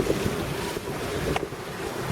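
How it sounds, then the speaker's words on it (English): Strong wind buffets a sailboat at sea off the Philippines, a steady loud rushing roar with wave wash and no speech. "not quite a gale, but certainly a strong breeze"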